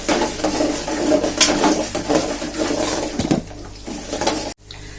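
Peanuts and chana dal roasting in a pan for kovil-style puliyodharai, a steady sizzling crackle with scraping of a spoon against the pan, fairly close and continuous, no talking.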